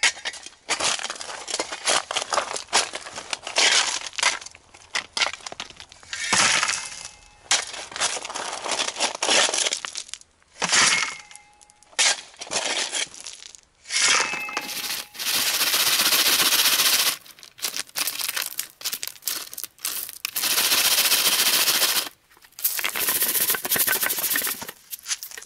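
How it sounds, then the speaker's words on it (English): Shovel or trowel digging into fresh gravel on a Northern Ontario placer gold site, a series of loud, rough crunching and scraping bursts with short pauses between scoops, close to the microphone. "Okay, this looks like some fresh, untouched gravels here. So I'm gonna dig in here."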